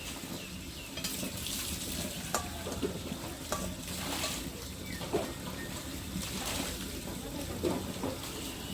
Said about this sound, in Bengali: তেজপাতা, শুকনো লঙ্কা আর গোটা গরম মশলা দিয়ে দিলাম